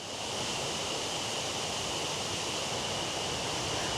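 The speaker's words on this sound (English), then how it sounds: "Man, the creek by the side of the house is just crazy right now." A storm-swollen creek rushes beside a house after thunderstorms, giving a steady, loud, broadband roar of fast water, like a waterfall, that runs unbroken with no voices.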